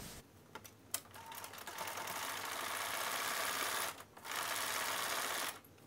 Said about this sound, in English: pin across the bottom and sew a 1/2 inch seam allowance